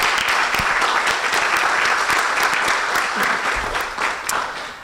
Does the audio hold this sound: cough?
no